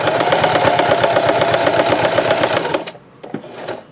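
A home sewing machine runs a straight stitch across a potholder, its fast, even mechanical chatter loud and close for about three seconds before stopping, followed by a few light handling clicks.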